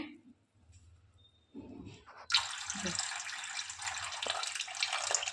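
Water poured into a pot of methi papad curry, a loud, steady splashing gush starting suddenly after a few quiet clatters and continuing for about three seconds, close up and without talk.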